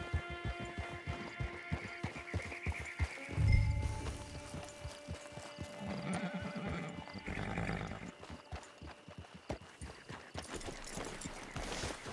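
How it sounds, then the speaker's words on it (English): Horse in the Red Dead Redemption 2 video game, with clip-clopping hooves and a loud neigh and whinny near the middle over a low hum, plus scattered footsteps and brief thuds. "Get your horse."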